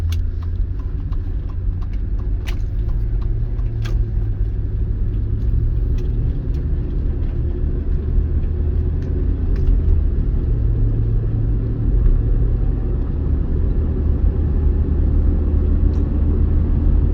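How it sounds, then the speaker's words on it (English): A 2004 Chevy Tahoe on a drive, its engine giving a steady, loud low rumble with constant road noise throughout and a few faint clicks and rattles on top. "I'm going to turn this off, and we're going to go"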